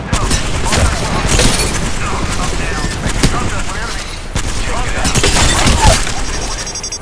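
Rapid gunfire and explosions in the Apex Legends battle game, loud dense bursts of shots and booms throughout, close and chaotic, with voices calling out over the fighting.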